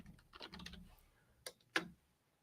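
A few quick keystrokes tap on a computer keyboard, followed by a couple of isolated, sharper key presses, faint and close in an otherwise quiet room.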